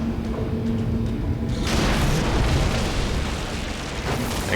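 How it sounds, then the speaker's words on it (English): Grenade blasts in the video game Orcs Must Die 2 erupt as a loud, dense boom and roar that swells abruptly and sustains as a rumbling wash of debris-like noise. "Pre-fire some grenades."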